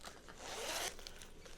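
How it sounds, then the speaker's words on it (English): A clothing zipper is pulled in one quick close stroke lasting under a second, with soft handling noise around it and no talk. "So I have 2 zippers."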